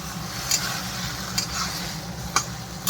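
A spatula scrapes spice paste of ginger, cumin, mustard and peanuts through mixed vegetables in a pan, a soft steady sizzle broken by three sharp clicks of utensil on metal, no talking.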